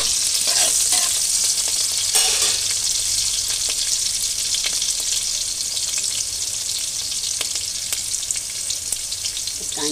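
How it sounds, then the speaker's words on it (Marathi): Spice tempering sizzles and fries in hot oil in a pan, a steady, close, crackling hiss with occasional stirring scrapes and no voices throughout. "खरपूस फोडणी द्यायची आपल्याला."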